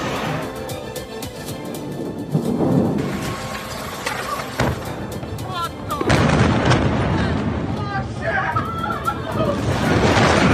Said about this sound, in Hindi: תראי, זה עדיין מתפוצץ